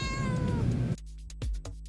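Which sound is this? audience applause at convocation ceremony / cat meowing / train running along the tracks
cat meowing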